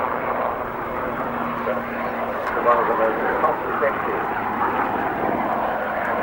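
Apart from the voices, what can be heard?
helicopter flying an agility display at air show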